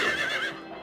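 A horse lets out a loud, brief whinny in the horror video game Silent Hill 3, set on a carousel, a single high neigh that fades quickly.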